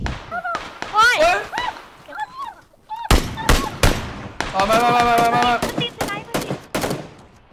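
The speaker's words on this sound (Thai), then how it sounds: "มันยิงเล่นมันยิงเล่น" Rapid bursts of gunfire crack out alongside shouting voices, several sharp shots in quick clusters over excited talk and yelling, fairly close and loud.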